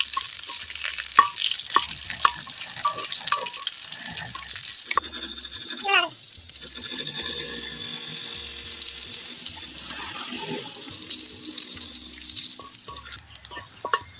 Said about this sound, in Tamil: பிரண்டை பாருங்கள் நல்லா எண்ணெயில் வணங்கிருச்சுங்க